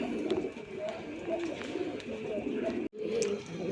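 Male pigeon of a fancy sky-blue breed cooing among other birds in a loft, soft repeated low coos close by over a busy background of birdsong and faint chatter.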